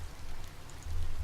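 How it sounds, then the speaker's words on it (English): Steady rain ambience in the video game Cattails, a soft continuous patter that stays even and close for a brief stretch, with no talk. "And it is wet and rainy."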